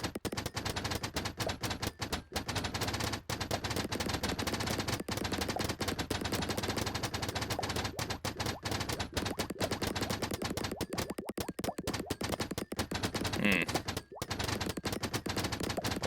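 Tower in a video game firing rapidly, a dense unbroken stream of sharp gunshot cracks rattling like a machine gun, loud and continuous with only brief gaps.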